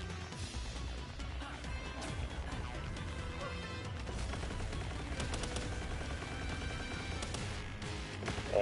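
A laser minigun fires continuously in Palworld, a dense, loud stream of rapid rattling shots with crashing impacts layered over steady background game noise.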